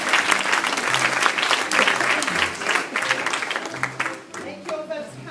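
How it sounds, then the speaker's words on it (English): Audience clapping at a Women's Institute 1920s-themed fashion show, a dense burst of applause that carries on steadily and then thins out toward the end, with voices mixed in. "So I think we should give her a round of applause."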